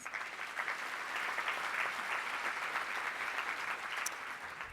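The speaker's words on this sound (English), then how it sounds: "give them one more round of applause" Steady applause from a sizable audience at an awards ceremony fills the room, dense and even throughout, heard from a moderate distance.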